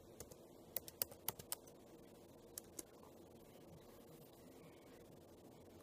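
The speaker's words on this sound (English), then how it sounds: "we're going to type in swarthy" A word being typed on a computer keyboard: about eight quiet, separate key clicks scattered over the first three seconds, then a soft hum of room noise.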